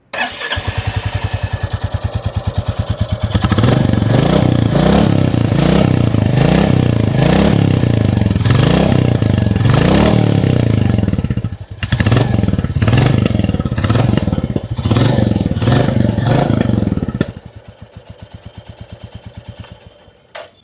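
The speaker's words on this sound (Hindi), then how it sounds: "आइए अभी सुन लेते हैं इस बाइक की एग्जॉस्ट नोट" A 2026 Royal Enfield Bullet 350 single-cylinder motorcycle thumps at idle, then revs up into a loud, rhythmic throbbing exhaust with repeated throttle blips before settling back to a steady idle.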